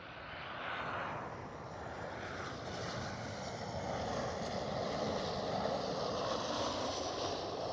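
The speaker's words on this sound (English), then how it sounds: "Next one up is another 737 KLM." A KLM Boeing 737 airliner flies past an Amsterdam Schiphol spotting spot, a steady broad engine roar building gradually and holding loud and near for the whole stretch, with no talk.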